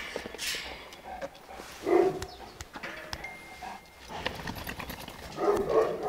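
A dog barks a couple of times, about four seconds apart, amid outdoor rustling and background noise.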